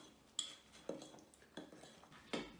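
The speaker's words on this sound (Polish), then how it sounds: "Mieszamy sobie suche składniki." Dry bread flour being stirred together with flax seeds, sunflower seeds and pumpkin seeds in a bowl, with a spoon clinking against the side in four separate strokes, close and fairly quiet.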